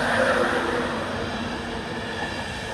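A train slowing to a stop at Northallerton station gives off a steady, fairly close rumble of wheels and rolling stock with no voices.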